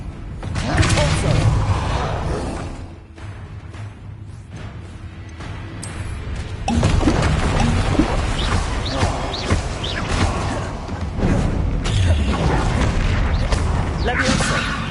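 Repeated booming impacts and crashes as spells, including Depulso, are cast in rapid succession in Hogwarts Legacy, heavy thuds and mechanical clatter in loud bursts.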